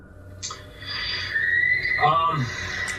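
A distant, high, drawn-out scream-like cry rises faintly behind someone speaking, with a second wavering cry following.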